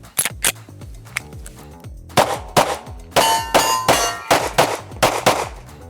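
Pistol shots from a handgun with a Shadow 2 optic firing lightweight 116 grain bullets, a rapid series of sharp loud cracks in quick strings with brief pauses, metallic ringing between shots, no talk.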